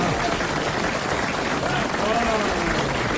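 Studio audience applause on a French television anniversary show, a steady wash of clapping with voices talking over it.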